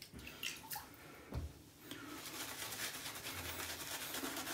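A shaving brush works Winter Spice shave soap into a lather on the face, giving soft, wet, squishy brushing strokes that are quiet and close, with a brief gap partway through.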